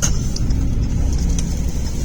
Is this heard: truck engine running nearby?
yes